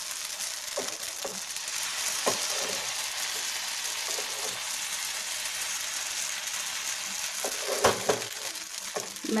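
Appam batter cooking on an oiled hot pan, a close, steady sizzle with occasional soft taps and scrapes of utensils, running without any talk.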